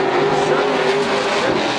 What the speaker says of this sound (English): Most of these cars running on 602 crate motors